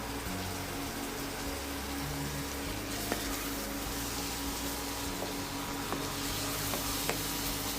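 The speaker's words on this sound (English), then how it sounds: "keep frying it until the masala gets really nice and brown." Steady sizzling of masala frying in a pan, with a few sharp clicks of a spatula scraping and stirring near the end.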